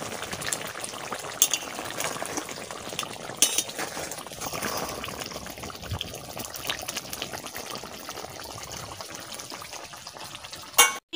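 Garam masala going into a curry in a pan while cooking crab and tilapia, with continuous stirring scrapes, clinks of a utensil and a soft frying hiss throughout, a few sharper knocks near the end.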